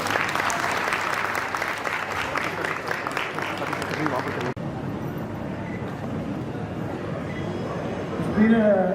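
At a high school graduation ceremony, the audience gives a loud burst of applause that stops abruptly midway, followed by a quieter stretch of hall ambience with a voice speaking.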